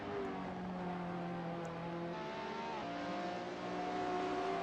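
Ferrari F40 race car in a GT500 racing video game at Suzuka, engine droning steadily with rising and falling harmonic pitch as it shifts, a constant mid-level roar with no talk.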